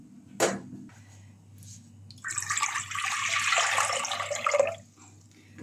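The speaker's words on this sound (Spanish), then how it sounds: "Ahora el siguiente paso es poner el agua en la olla y ponerlas." Water pours steadily into a cooking pot for canning green beans, a sustained splashing rush of about two and a half seconds after a brief knock, close and fairly loud with no talking.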